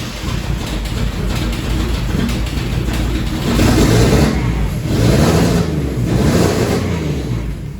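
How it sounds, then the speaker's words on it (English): A Mercedes W203 with a turbocharged 3.2 engine, rebuilt with a fixed head gasket and head spacer, idles and revs in a steady low rumble, swelling louder twice mid-clip, with no talk over it. "I really didn't expect the car to fire up that easily"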